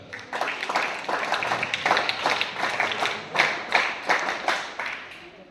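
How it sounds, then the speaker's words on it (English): Students in a school Scout and Guide unit clap for their principal in a rhythmic series of loud, fairly synchronized claps, with the beats gradually spreading out. "big Scout Guide claps for our honorable principal sir"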